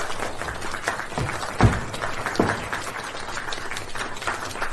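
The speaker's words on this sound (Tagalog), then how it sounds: "Si Ginang Vance, mga kasama, bigyan natin siya ng palakpak." An audience at an award presentation claps in a moderate, scattered round of applause, fairly quiet and steady with a few louder individual claps standing out.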